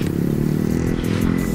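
A motorcycle engine with a freshly tuned ignition runs in a brief, steady, loud idle with an even mechanical throb and no voices.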